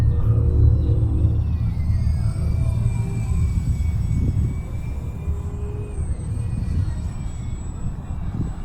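UMX radio-controlled model airplane flying a loop at full throttle outdoors in some wind, its high motor whine steady and continuous, with pitch sweeping up and down as it passes, alongside a low rumble.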